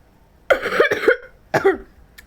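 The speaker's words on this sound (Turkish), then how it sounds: "Öksürüğüm bitmiyor ya." A person coughs in two sharp, close bursts: a double cough, a short pause, then a single cough, with no talk around it.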